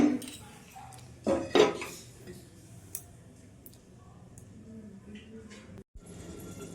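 A lid clatters onto a pan of spicy tengra fish and eggplant curry, making two metallic clanks close together, followed by quiet kitchen ambience and a few faint ticks.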